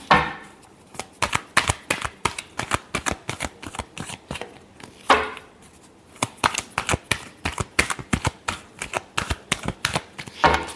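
Tarot cards being shuffled by hand, a steady run of close, crisp riffling flicks and slaps with brief pauses, alone without talk.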